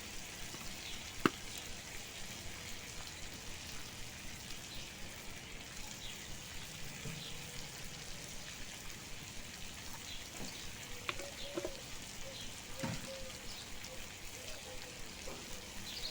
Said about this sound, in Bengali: এবার আলুটা ভালো করে ভেজে নেব।